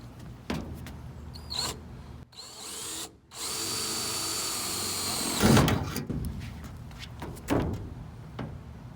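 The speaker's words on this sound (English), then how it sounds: "with our metal cutting blade, we're gonna cut through this outline" A power saw fitted with a metal-cutting blade cuts an outline through a camper van roof for a Maxxair fan, giving loud sustained bursts of whining cutting with short pauses and knocks between them, close by.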